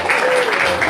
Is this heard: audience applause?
yes